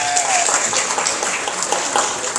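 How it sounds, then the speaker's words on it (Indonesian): Audience applause at an election-preparation meeting with Indonesian officials, a steady mid-loud wash of clapping that holds for the whole two seconds with a faint voice underneath. "Tepuk tangan Bapak."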